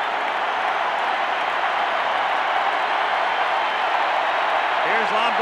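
A stadium crowd at a 1987 World Series baseball game, Cardinals at Twins, roars and applauds in a steady, dense wash of cheering, with an announcer talking faintly underneath.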